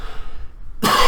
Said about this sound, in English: excuse my cough, got a little bit of a cold